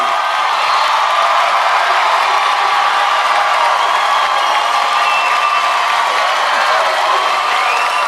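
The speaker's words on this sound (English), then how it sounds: "Enjoy the applause now" A studio audience at a rock competition show applauds and cheers in a continuous, loud, dense wash of clapping and whoops that holds steady throughout.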